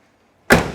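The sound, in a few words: 1966 Chevrolet Chevelle SS car door shutting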